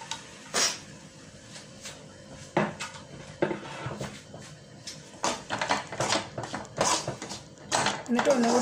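Chopped tomatoes sautéed in a pan for Kerala-style red fish curry, with repeated clattering spoon-on-pan scrapes and knocks that come irregularly and close by, while a person talks over much of it.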